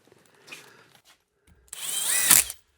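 A power drill drives a screw through wooden strapping into a 2x4, with a faint short whir first and then a louder sustained whine that rises in pitch before cutting off, close up and with no talking.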